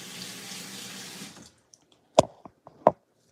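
Tap water running over a soapy hand at a sink, a steady close rush that stops after a second and a half, followed by a few sharp scattered drips.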